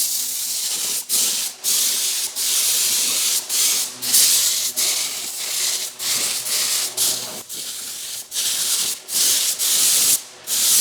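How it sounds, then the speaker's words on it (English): An aerosol can sprays gloss clear coat onto a painted Helm of Domination, a Lich King helmet replica, in a series of close, loud, hissing bursts separated by brief pauses. "I'm going to top coat that with a gloss clear coat."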